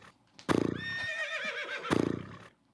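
A parrot imitates a horse's neigh, giving two loud, close, whinny-like calls with a shaky, pulsing quality and a wavering whistled tone between them.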